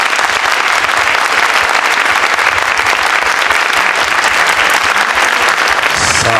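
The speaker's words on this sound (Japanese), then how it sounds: "拍手。" Sustained applause from the audience at a mahjong tournament final, a dense, loud wash of clapping that stays steady throughout.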